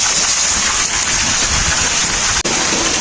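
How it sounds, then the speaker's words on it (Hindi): Steady rain falls continuously during a snowy spell, a dense, even wash of drops with no talk, briefly dipping near the end before resuming. "बारिश स्लो हो गई"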